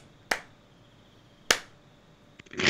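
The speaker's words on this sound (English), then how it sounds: "Did you just slow clap me?" Two sharp, spaced hand claps about a second apart, close and crisp in a slow deliberate rhythm, followed by a brief rustle and rising noise at the end.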